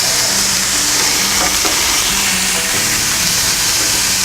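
Ribeye steak and pork chops sizzle on a small, evenly heating grill, a steady close frying hiss running unbroken throughout with faint crackles and no talking.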